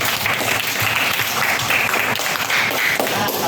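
A class of 36 students applauds together, steady dense clapping from a room full of pupils, lasting the whole stretch without talk.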